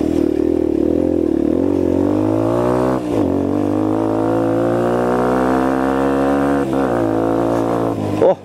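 A Fratelli Xe 125 motorcycle engine runs steadily close by while riding a dirt trail, its harmonic drone rising slowly in pitch, with two brief dips in throttle along the way.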